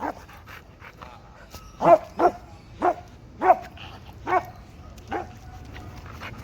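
Reactive dog giving a run of sharp barks mixed with whimpers and yips, about six distinct barks spaced irregularly over quiet background, fairly close and moderately loud.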